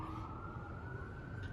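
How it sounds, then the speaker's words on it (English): A siren wails steadily over a low traffic rumble, sounding fairly distant and holding a sustained tone for the whole stretch. "Sorry about the sirens."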